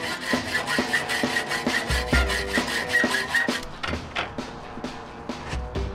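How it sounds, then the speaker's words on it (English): A hacksaw fitted with Lennox blades cuts in steady back-and-forth strokes, a rasping rhythm of roughly two strokes per second, close and clear, with no talking. "Time to test out these hacksaw blades that my dad was so fond of."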